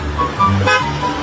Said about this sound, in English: They kept honking the horn at her.